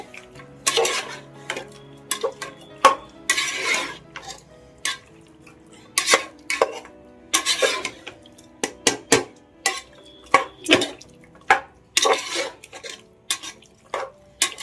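A spoon stirring chicken dry fry masala in a metal pan, wedding-house style, making repeated rhythmic clinks and scrapes against the pan that are close and clear, with no voices.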